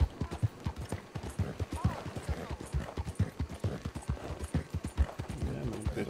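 Horse hooves clip-clop steadily in Red Dead Redemption 2, a quick, regular rhythm of close, crisp hoofbeats running throughout, with a voice talking intermittently over them.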